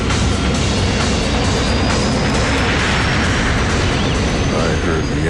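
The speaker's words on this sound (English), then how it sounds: "I heard the engines rev, and we made a really hard, sharp left-hand turn." Boeing 747 jet engines pushed to full throttle on a runway, a loud, dense continuous roar with a faint rising whine above, unbroken and close throughout.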